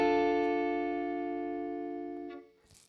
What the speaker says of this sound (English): And the minor D sounds like this.